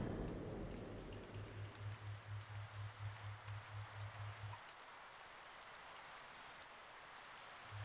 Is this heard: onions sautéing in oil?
no